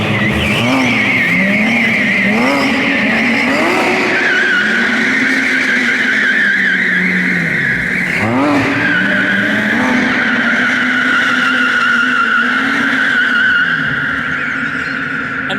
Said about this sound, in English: Pretty standard photo shoot, having a 911R doing a donut around you.